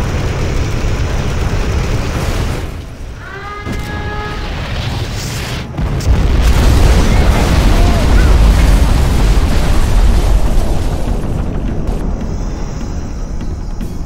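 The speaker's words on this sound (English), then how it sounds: "We have launched our nuclear missile." A nuclear missile blast from Command & Conquer Generals Zero Hour erupts as a loud, sustained rumbling boom filling the back half, preceded by a short electronic tone and game voice lines.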